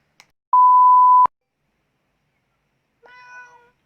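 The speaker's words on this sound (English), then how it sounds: "There's a cat outside." A cat meows once outside, a short, fairly faint cry heard after a sharp electronic beep, with near silence around both sounds.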